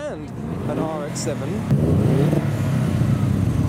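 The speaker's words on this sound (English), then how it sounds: "Some subtle revs" Modified Japanese cars sit in a traffic jam while one engine gives a few subtle revs, a rough rising rumble under steady traffic noise, with someone talking over it.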